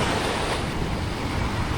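Sea waves roll in at a beach in Mui Ne, Vietnam, a loud, continuous wash of surf mixed with wind rumble on the microphone, with no voices.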